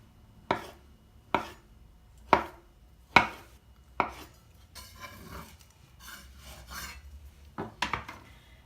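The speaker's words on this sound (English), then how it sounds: "So I'm going to slice it thinly" A knife thinly slices food on a cutting board in five evenly spaced, crisp chops, followed by softer rasping cuts and a final quick pair of strokes, all close and clear with no talking.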